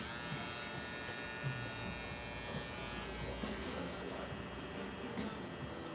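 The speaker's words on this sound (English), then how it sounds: "we're going to switch over to a clipper guard now" Electric hair clippers with a guard buzz steadily and closely throughout a haircut, with a continuous drone and small shifts in tone as they move through hair.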